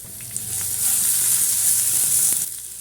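Sliced onions sauté in a pan of hot oil for egg curry, a steady, close, bright sizzle with a few soft stirring scrapes and no talk.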